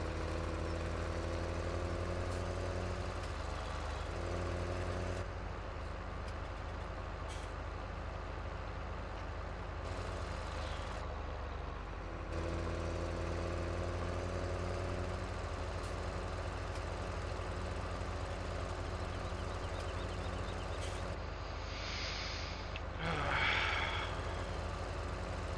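A washed and fuelled tractor engine idles in Farming Simulator 2017 Seasons, a steady low drone running unbroken at moderate level with a faint brief whoosh near the end, no talking.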